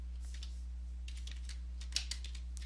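Rapid light tapping on a computer keyboard as code is typed, the clicks coming in quick uneven bursts over a low steady hum, one key striking a little harder near the end.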